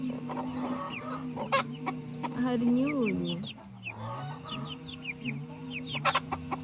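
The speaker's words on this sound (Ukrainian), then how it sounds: "Півник і курочка начебто" Chickens clucking up close in a garden chicken coop, a rooster and hen making short bursts of calls while a person speaks softly over them.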